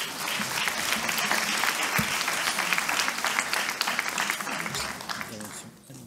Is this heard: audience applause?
yes